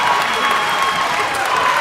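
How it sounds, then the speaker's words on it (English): A crowd at a girls' high school basketball game between Conway Christian and Bigelow stands, cheering and applauding in a steady, full roar with no breaks. "And the crowd is standing up here at Conway Christian."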